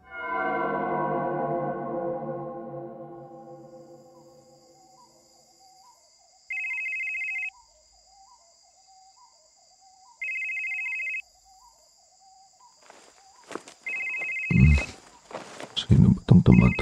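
A phone rings with an incoming call in the small hours: bursts of electronic ringtone repeat at regular intervals after a fading musical passage, followed by footsteps and a voice speaking near the end.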